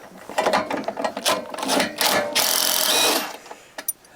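A ratchet spins a nut off during a Can-Am Outlander exhaust install, giving rapid close clicking bursts that build into a dense run of pawl ticks, then trail off with a couple of last clicks.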